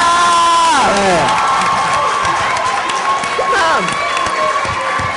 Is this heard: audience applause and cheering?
yes